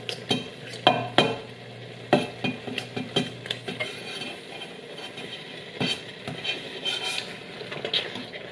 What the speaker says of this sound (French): Je vais continuer à défaire la viande comme ça à l'intérieur